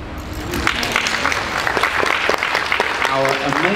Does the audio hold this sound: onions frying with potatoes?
no